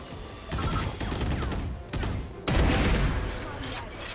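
Gunfire in the tactical shooter Valorant: several loud bursts of shots, the strongest near the end, mixed with game effects and partly under a voice.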